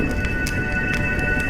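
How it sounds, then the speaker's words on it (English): Steady rain in the video game Honkai Star Rail, a constant dense wash of falling water that stays even and close throughout, with a faint background tone running beneath it and no voices. "When will this rain ever stop?"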